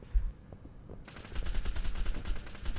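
Rapid video-game gunfire breaks out after a quiet second, a fast continuous burst of shots at moderate loudness, with no talk.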